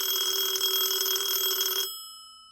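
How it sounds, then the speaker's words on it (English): An old telephone bell ringing loudly and steadily for nearly two seconds, then cut off, leaving a fading ring. "the phone rings at 4 a.m."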